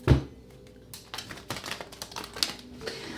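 Tarot cards are shuffled up close in a quiet room, a sharp snap followed by a run of soft, crisp riffling clicks and taps.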